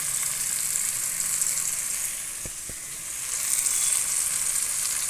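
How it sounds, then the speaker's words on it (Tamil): Raw banana slices sautéing with chili powder in a pan, giving a steady, close hiss of sizzling that runs unbroken throughout, with a couple of faint knocks partway through. "வாழைக்காவை போட்டு நல்லா வதக்கி மிளகாத்தூள் போட்டு"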